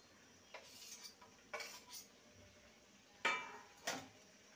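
A spoon stirs spices through potatoes and pointed gourd in a pan over a high gas flame, giving several sharp metallic scrapes and clinks spaced irregularly against a faint background hiss.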